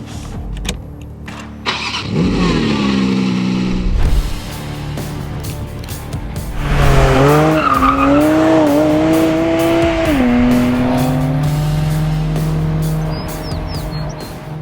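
A Porsche 718 Spyder RS racing engine fires up and revs hard, rising through the gears with loud, climbing whines before settling into a steady high drone.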